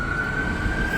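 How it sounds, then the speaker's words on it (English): An ambulance siren wails steadily through misty light rain, holding one sustained tone over a rumbling background for the full second, moderately loud with no talk. "Yeah, just an ambulance."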